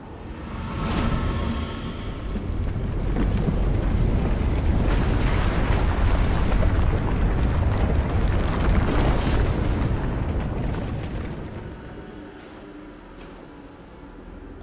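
Explosion blasting a door open in the Star Trek Resurgence video game, a long rumbling deep roar that swells and holds for about ten seconds before fading into a lower hum, with no speech.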